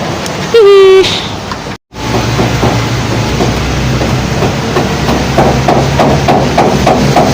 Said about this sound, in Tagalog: magtatanggal pa tayo ng mga pako nitong mga paleta